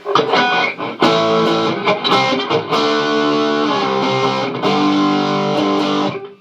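An electric guitar plays loud distorted chords and notes, raw and dry with little echo, continuing for several seconds.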